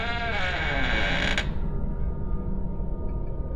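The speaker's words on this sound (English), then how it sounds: "the slow creak of the wardrobe door" A wooden wardrobe door creaks slowly open, a strained, pitched groan that holds for about a second and a half before cutting off, leaving low rumbling background noise behind it.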